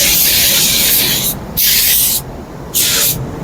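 A Harbor Freight Black Widow 2.0 spray gun lays down a black base coat in three bursts of loud hissing spray, the first long and the next two shorter, with brief pauses between them.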